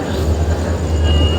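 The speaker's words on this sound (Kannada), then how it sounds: "ನಮ್ಮ ಟ್ರೈನ್ ಬಂತು, ಬರತೈತಿ." A train pulls into a busy station at Solapur Junction, its low steady rumble filling the platform along with crowd noise, continuous and fairly loud throughout.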